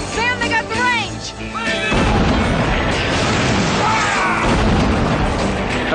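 A field piece cannon fires in a Western battle scene, a heavy boom that begins about two seconds in and rolls into sustained blast noise, following a voice at the start.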